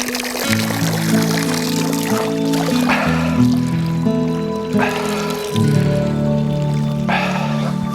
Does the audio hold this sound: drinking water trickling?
yes